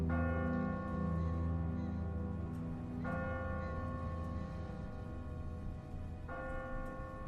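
In The Walking Dead game, a church bell tolls three times at roughly three-second intervals, each deep stroke swelling and lingering over a dense, rumbling background.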